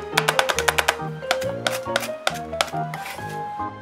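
A kitchen knife chops green onion on a cutting board in quick bursts of sharp, close knocks, several rapid strokes per burst separated by brief pauses.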